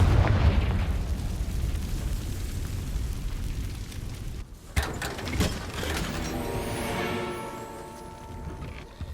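Fiery Confringo spell explosion in Hogwarts Legacy on PS5: a dense roaring rumble that breaks into a sharp crackling burst midway, followed by ringing, whooshing magical effects.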